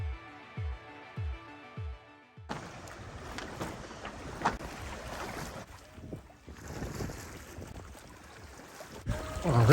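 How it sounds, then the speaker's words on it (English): Boat engines motor along the sailing route from the Cavalli Islands to the Bay of Islands, a steady low drone buried under wind noise and sloshing water, with a few soft knocking thuds at the start. "Well, they're motoring because I can hear their engine."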